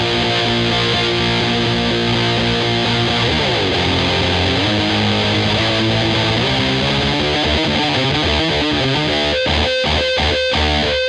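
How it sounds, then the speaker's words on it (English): Electric guitar through heavy prime distortion plays a chorus, a loud dense wall of sustained power chords with a shift near the middle and choppy rhythmic stabs toward the end, alone without voices. "by this point I do take out the modulation and go over to the prime distortion"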